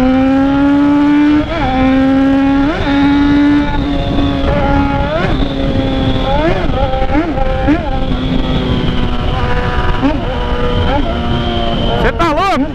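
Yamaha XJ6 motorcycle engine under riding, a loud steady drone that rises and falls as the rider moves through gears, with wind noise.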